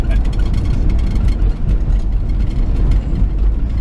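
A 1964 Aston Martin DB5 drives along with a loud, low engine rumble and wind roar filling the cabin, someone talking over it.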